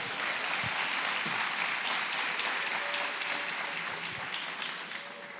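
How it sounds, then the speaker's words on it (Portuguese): Pentecostal church congregation applauding together during a sermon, a dense, steady wash of clapping that fills the space and fades slightly toward the end. "Vamos aplaudir a Jesus."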